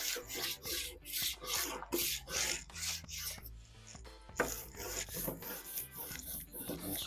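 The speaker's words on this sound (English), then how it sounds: "I'll come back and clean that grill while it's hot." A hot charcoal grill grate scrubbed with a brush in rapid back-and-forth rasping strokes, close and rhythmic, with a short pause midway before the scraping resumes.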